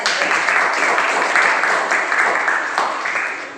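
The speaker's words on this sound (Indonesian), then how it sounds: "Beri tepuk tangan Tuhan" Children in a classroom clap together after a prayer, a loud, close burst of mixed claps that holds for a few seconds and then fades.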